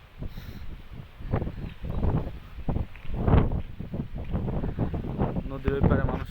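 A strong storm wind blows across a riverbank lined with coconut palms and rice fields, arriving as surging gusts that batter the microphone, with a voice briefly heard among them.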